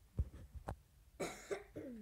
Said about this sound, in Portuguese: Tô com uma tosse aqui.